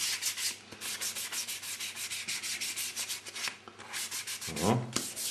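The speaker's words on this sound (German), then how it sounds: "Schleifen wir das kurz leicht an." Steady back-and-forth rasping of a sanding sponge lightly scuffing the painted casing of a router, close up, with a brief pause and a soft knock near the end.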